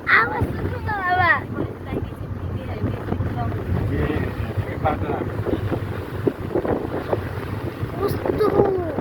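Wind buffets a mobile phone microphone outdoors on an uphill mountain road. It makes a steady, heavy low rumble throughout, with faint voices and scattered sounds beneath it.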